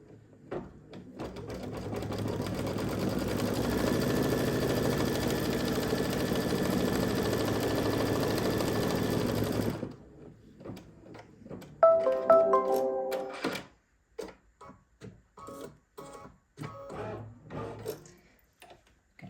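An embroidery machine tacks down Christmas tree fabric on an in-the-hoop mug rug, a steady rapid mechanical whir for about ten seconds, then stops, followed by scattered clicks, thumps and brief whines.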